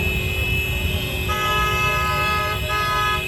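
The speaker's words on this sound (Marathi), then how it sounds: "तर इथं पुरा ट्रॅफिक जाम झालेला आहे." Car horns honk in a rain-soaked traffic jam, sustained overlapping toots rising over a low rumble of idling engines, loud and close.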